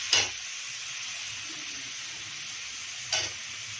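Vegetable sabzi cooking in a pan, a steady bright sizzle and hiss throughout, with two louder spatter bursts near the start and end; no talk.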